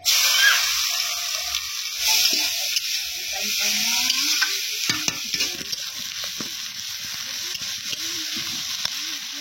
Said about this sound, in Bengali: এরপর দিয়ে দেওয়া হবে পেঁয়াজ কুচি।